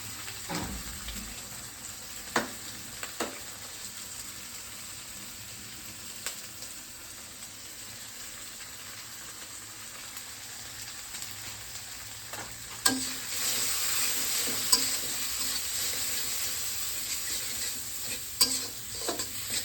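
Egg frying in a pan and stirred with a utensil, a low sizzle under intermittent scrapes and knocks, rising to a louder, brighter frying hiss in the second half.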